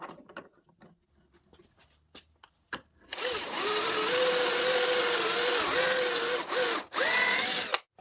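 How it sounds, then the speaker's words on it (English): A power drill bores through a clear plastic jig clamped to a workpiece: a few light clicks, then a loud, close whine that holds steady, pauses briefly and starts again. "I clamp the jig in place and then I drill"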